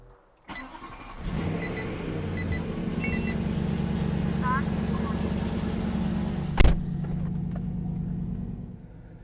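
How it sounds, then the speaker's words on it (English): A BMW E93 M3 engine rumbles at a steady idle once its cold start has settled, loud and continuous from close by, with a sharp knock near the end. "Now that the car is idling normally now and the cold start's done"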